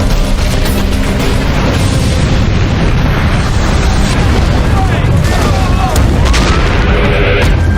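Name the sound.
explosions of gas tanks at industrial gas supply company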